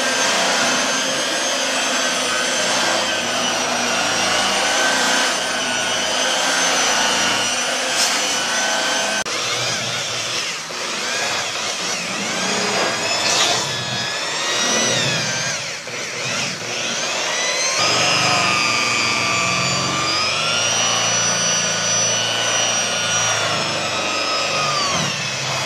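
A polishing machine buffs the paint of a Honda CR-V with a continuous loud whirring drone that shifts in pitch as pressure changes, heard up close with no talking.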